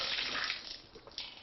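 Rainwater gushing from a tap into jugs at a filling point in Menorca, a steady close splash that tapers off, with brief spurts near the end.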